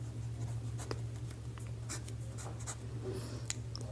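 Pen writing out a Class 10 NCERT math solution on paper, faint scratchy strokes in short irregular bursts over a steady low electrical hum, no speech during the strokes.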